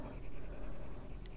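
Steady scratchy friction of a colored pencil shading across paper over a watercolor base, a close continuous rasping with gentle pressure variations and no voices.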